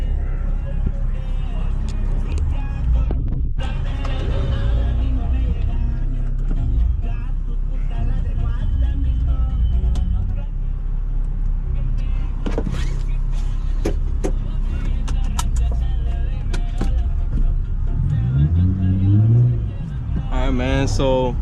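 A Jeep Compass driving on the road, with steady engine and road rumble filling the whole stretch, a power window whirring at one point, and people talking over it.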